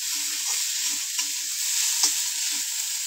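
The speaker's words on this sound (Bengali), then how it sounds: "গাজর আলু ভাজাটা একটু নেড়ে চেড়ে দিয়েছি" Carrot and potato bhaja frying in a pan, with a steady close sizzle and a few soft scraping stirs of a spatula over about three seconds, no voices.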